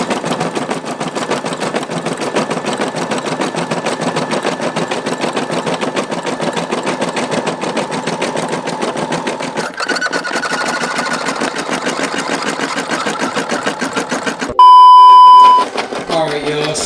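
A Brother SE625 embroidery machine stitches with a rapid, steady mechanical chatter that changes character partway through. A loud sustained beep follows as it malfunctions, then the stitching resumes.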